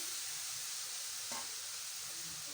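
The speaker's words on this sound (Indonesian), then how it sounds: "Selanjutnya kita masukkan bihunnya." Rice vermicelli goes into a pan of frying risol filling, giving a steady, soft, faint sizzle with one brief rustle partway through.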